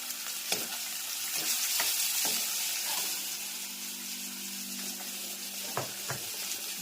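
Cumin and turmeric tempering in hot oil for a chutney, a soft continuous sizzle with occasional spoon clinks and stirring scrapes, fairly faint and close.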